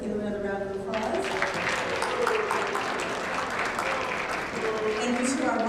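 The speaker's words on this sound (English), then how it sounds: "Let's give them another round of applause." An audience at a Poetry Out Loud competition applauds steadily for several seconds, with dense clapping from a sizeable crowd after an announcer's voice briefly opens.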